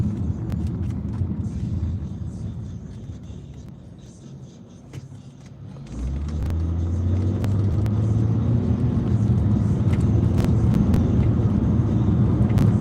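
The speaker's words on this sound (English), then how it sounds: "there's usually never cars on this road, and it's like jam-packed." Traffic on a normally empty road that is packed with cars in the evening, heard as a steady loud rumble of engines and tires that swells midway as vehicles pass close by, with no talk.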